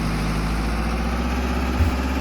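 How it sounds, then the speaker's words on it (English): An 81-horsepower tractor in a farming video game idles steadily, a low, even engine rumble with a faint rhythmic throb, close and loud, with no talking. "Absolutely love the sound, absolutely love the tractor."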